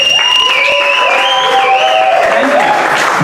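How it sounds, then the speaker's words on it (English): An audience applauds at a SecKC security meetup for the event's volunteers. The clapping is loud and dense, with whistling or shrill cheering tones gliding above it for about three seconds. "Let's get a round of applause for the awesome people that make SecKC happen."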